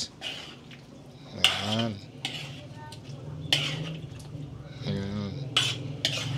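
Pork simmering in coconut milk in a pot is stirred with a utensil that scrapes and clinks against the metal in irregular strokes, close and moderately loud, while someone speaks briefly between stirs.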